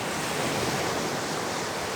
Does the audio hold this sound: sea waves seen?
yes